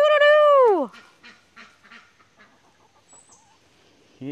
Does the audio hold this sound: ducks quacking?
yes